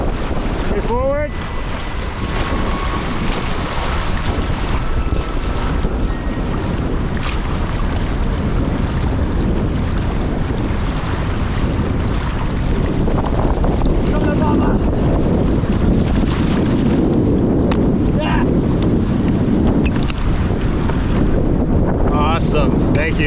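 Heavy wind and crashing waves around a canoe being paddled through rough water, loud and continuous with wind buffeting the microphone and faint voices under the roar.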